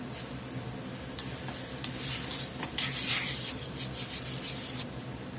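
Guinness beer splashing into a pan of sizzling vegetables, a steady crackling fizz with stirring and a few bright bursts of spatter, close and fairly loud throughout with no talking.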